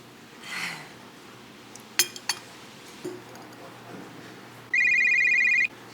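Near the end a telephone rings with a single sustained electronic burst, after scattered clinks of dishes in a quiet breakfast spot.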